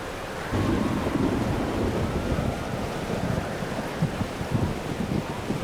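Storm wind and rumbling thunder in the video game Life is Strange: Double Exposure, a loud, dense, continuous roar that surges in after a brief quieter start, with no talk.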